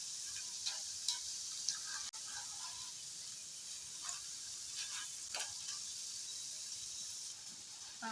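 Jackfruit chips frying in hot oil give a steady, close sizzle with scattered crackles and pops throughout, and no voices.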